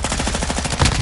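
Rapid automatic gunfire in a video game, a close, loud, evenly spaced stream of shots with no pauses.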